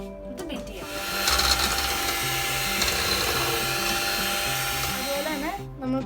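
An electric mixer beats a powdered sugar mixture for a homemade lemon cake, whirring steadily at close range with a high motor whine that shifts speed near the start and end, and someone speaks over it.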